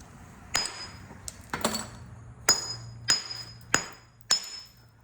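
Coastal chert being knapped with a hammer stone while bifacing: six sharp, ringing clinks spaced about a second apart, close and loud with no talking.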